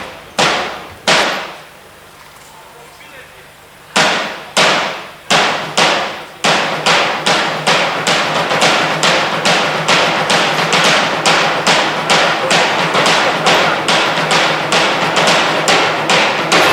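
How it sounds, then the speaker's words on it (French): A hammer strikes hard and close: a few spaced blows at first, then a fast, even run of loud repeated thuds, with no talking. "Marteau."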